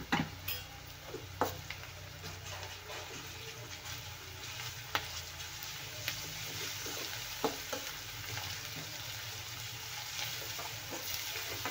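Ginger-garlic paste fries in an oil-filled pan with a continuous soft sizzle, broken by occasional spoon stirs and clinks against the pan, close and quiet with no voices.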